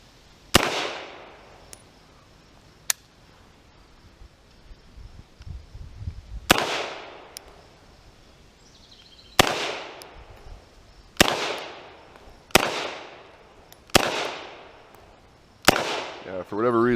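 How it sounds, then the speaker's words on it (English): Sharp gunshots from a 1917 Mauser C96 Broomhandle pistol in 7.63x25 at a shooting range, seven loud cracks with irregular gaps, the last five in quicker succession. "Looks like I'm shooting a little high."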